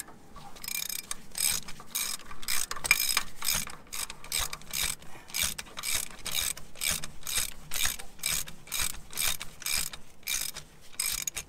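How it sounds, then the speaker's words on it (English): A ratchet wrench running a stud down into a 1950s Cat diesel engine head, a rapid series of sharp metallic clicks in quick bursts, close and steady throughout, with no speech. "And now I can run that stud down in."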